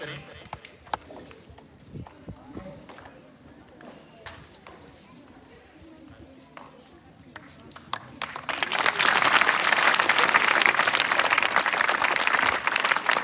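Audience at a school farewell ceremony in Rajasthan, with scattered footsteps and faint voices before a crowd breaks into loud, sustained clapping that continues to the end.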